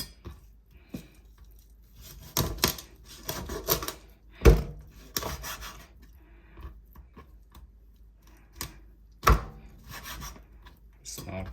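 A knife chops raw quail into small pieces on a wooden board, giving sharp, irregular thuds and scraping cuts, close and fairly loud, with quiet gaps between strokes.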